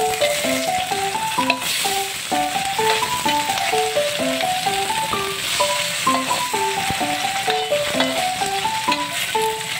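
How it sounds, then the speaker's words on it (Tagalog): Tofu frying in a pan, a steady dense sizzle that holds throughout at close range with no talk, while a melodic background tune plays underneath. "ang piniprito ko naman, guys, ay tofu"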